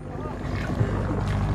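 Outboard motor on a canoe travelling a jungle river, a steady low droning hum with wind and water rush running through the whole stretch.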